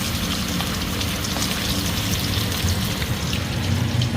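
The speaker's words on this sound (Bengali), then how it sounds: "মাছটা ভালো করে ভেজে নিই।" Bata fish frying in hot oil for a mustard curry, a dense crackling sizzle like rain, steady and fairly close with slight swells, no talk.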